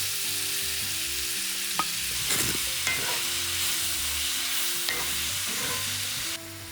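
Three medium onions, sliced thin, fry in oil for a Kerala-style chicken roast with a steady sizzle, a few stirring scrapes along the way and a quieter tail at the end.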